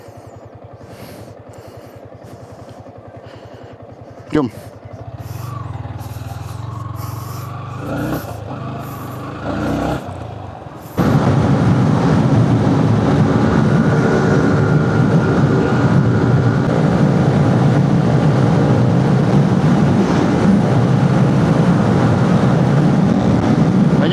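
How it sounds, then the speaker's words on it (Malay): A motorcycle engine drones steadily while riding on a morning road among other bikers, the broadband roar jumping louder after a few seconds and holding close and constant; a brief spoken word comes early. "Aku je naik motor ni."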